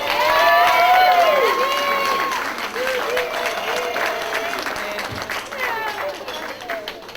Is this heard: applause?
yes